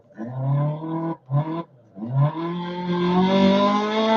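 A rally car engine in Dirt Rally 2.0 revs in loud, buzzy bursts, cutting out twice briefly before climbing into a long, steadily rising drone that holds to the end.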